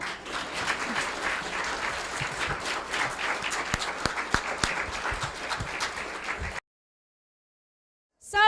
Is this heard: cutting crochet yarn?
no